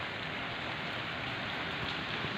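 Steady rain falls on a surface, a dense, even patter of drops with no voices.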